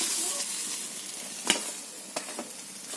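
Fried small carp, browned reddish, are lifted from sizzling oil: a soft continuous frying hiss broken by a couple of sharp utensil clicks against the pan.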